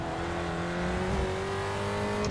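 A Spec Racer Ford race car engine in iRacing at Lime Rock Park drones at a steady, moderate pitch that rises slightly partway through, with no voices.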